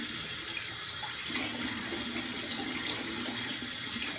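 Water runs steadily from a tap into a sink while a shaving razor is rinsed, a continuous close hiss with slight splashing changes and no speech.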